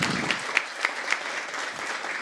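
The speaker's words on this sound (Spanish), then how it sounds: "Un aplauso para mi paisano." An audience gives steady, dense applause in a comedy talk setting for a fellow Tabasco native. A few sharper claps stand out from the broad wash of sound.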